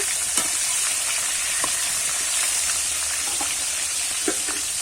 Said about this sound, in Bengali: আমি কিন্তু একসঙ্গে সব মাছের মাথাগুলো ভেজে নেব